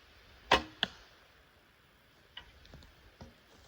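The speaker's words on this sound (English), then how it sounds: "That arrow flew really well." Two sharp twangs and whooshes of arrows leaving a bow in quick succession while stump shooting, followed by a few faint, distant thuds and ticks in a quiet outdoor setting.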